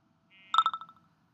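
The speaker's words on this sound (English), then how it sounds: "I'm getting the ringtone that I have associated with a target alarm" Phone ringtone set as the target alarm for the JB Industries DV-40S digital micron gauge app, a short tonal chirp followed by a quick rapid trill of descending beeps, fairly quiet and alone.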